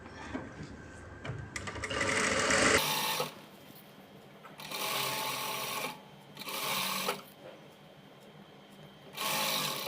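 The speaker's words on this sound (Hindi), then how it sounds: "और अब इसके ऊपर सिलाई लगा देनी।" A sewing machine stitches around a garment's neckline. Loud, close bursts of rapid whirring alternate with short pauses, and there is no talking.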